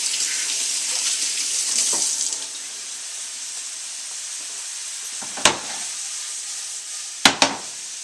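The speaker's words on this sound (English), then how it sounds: "Quickly wash my hands." Running tap water while hands are washed at a kitchen sink during a cooking demonstration, a hissing stream for a couple of seconds, then quieter background with a few sharp knocks.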